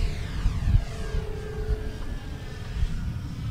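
A FREEWING de Havilland Mosquito RC model airplane flies aerobatic passes overhead, giving a steady, moderately loud engine drone with a faint whine that holds throughout, with no talk.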